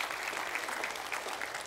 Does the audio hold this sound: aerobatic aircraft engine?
no